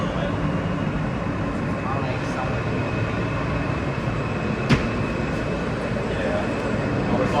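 R subway train running on the Q line between 14th Street Union Square and 96th Street: a loud, steady rumble and roar from inside the moving car, with a brief sharp click midway and voices talking under it.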